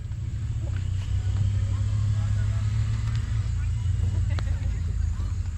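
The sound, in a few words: heavy equipment engine fired up and running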